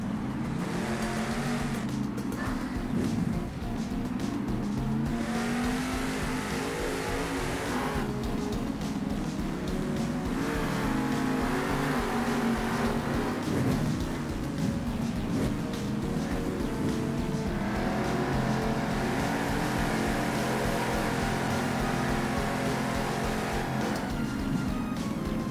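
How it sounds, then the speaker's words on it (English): Monster trucks at a Monster Jam arena event in San Diego roar continuously, engines revving and surging loudly over a dense crowd-filled background for the whole stretch, with a steady, heavy rumble rising and falling. "As these two trucks are staged and they're getting ready to go for green"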